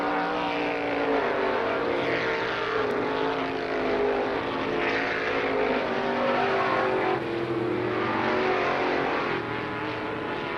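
Race cars circle Lorain County Speedway in Ohio on the final lap, a steady roar of several engines revving and droning at moderate distance, swelling and fading as the pack passes, with no talk.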